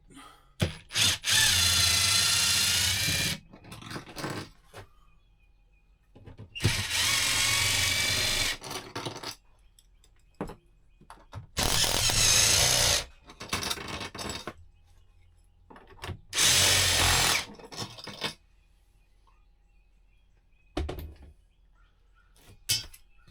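A power tool whirs in four separate loud bursts while removing four bolts on an RV camper, with clinks and quiet handling noises in the pauses between.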